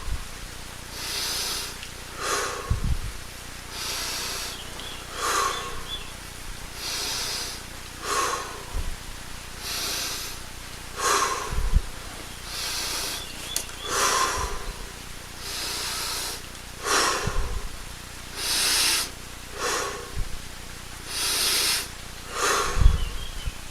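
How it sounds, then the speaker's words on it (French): Deep, relaxed breaths taken one after another during a seated meditation, each long airy inhale and exhale heard close and clear, with soft low thumps now and then and no talking. "on prend 20 grandes respirations. Très détendues, mais profondes."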